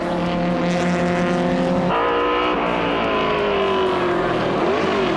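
A Ford Mustang overtakes a VW Scirocco uphill in a saloon car race. Loud engine roar drones close by, the pitch shifts sharply as one car powers past, and a higher whine trails off afterward.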